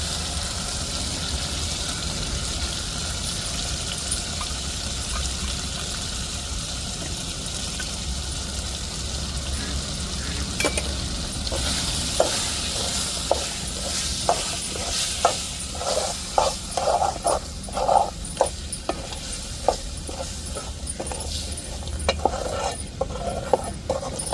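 Chicken masala fries and sizzles in oil in a pan, a steady crackling hiss with stirring and scraping that grows busier and more clattery toward the end.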